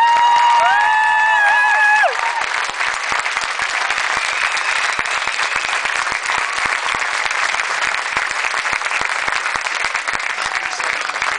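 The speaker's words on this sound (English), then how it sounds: "another round of applause for Flava" Audience applause for the dance group Flava fills the room with steady, loud clapping and some cheering, continuing evenly after a brief tonal sound at the start.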